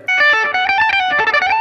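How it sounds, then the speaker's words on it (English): An overdriven electric guitar plays a short run of sustained, gritty notes with a reverb wash, loud and close. "We're gonna add a bit of overdrive to our amp and reverb setup here."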